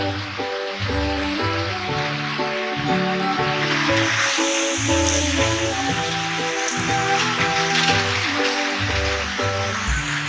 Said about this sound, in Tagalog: Umuulan na ngayon, no?